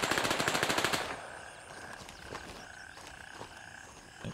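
Gunfire in the Gray Zone video game opens with a dense burst of rapid automatic fire, then a few scattered, fainter distant shots over quiet background ambience.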